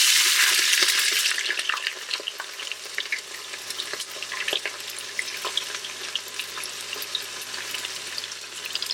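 Onions going into a pot of hot oil with whole spices for a mutton masala curry, a loud initial hiss that settles into a steady close-up sizzle with small crackles and stirring, no talking.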